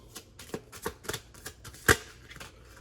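Romantic angel cards being shuffled and drawn by hand, a close series of soft, irregular papery flicks and snaps with one sharper slap near the end, heard with no talking.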